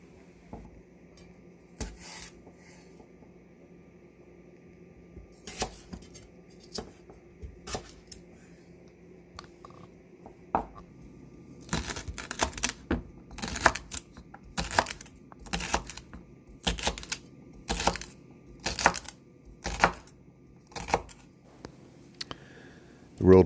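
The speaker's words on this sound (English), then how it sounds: "We chop and then coarsely dice." Knife chopping and coarsely dicing celery on a cutting board: sparse single cuts at first, then a fast, steady run of sharp, close-up chopping strikes.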